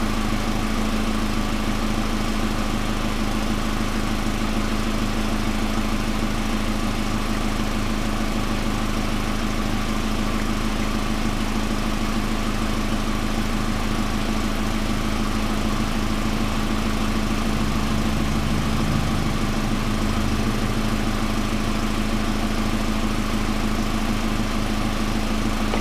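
A freshly rebuilt GM LD9 2.4-liter Quad 4 engine in a 1999 Pontiac Grand Am idles at a steady, even hum with a constant low drone, close and unbroken for the whole stretch.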